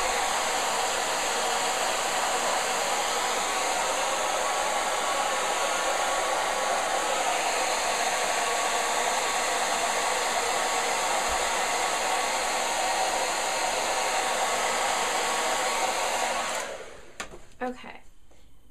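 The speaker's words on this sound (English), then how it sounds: "I use the blow dryer not to burn them" A blow dryer blows on glued-in hair extensions with a loud, steady whoosh for most of the stretch, then clicks off, leaving quiet handling sounds.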